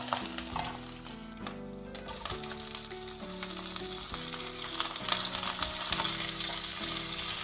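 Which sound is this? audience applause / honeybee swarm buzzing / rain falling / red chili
red chili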